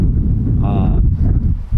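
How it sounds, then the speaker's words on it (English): Strong wind buffets the microphone outdoors during an aoudad hunt in a constant, loud low rumble, with a brief faint tonal sound partway through. "It's super windy today. You can probably hear it in the audio."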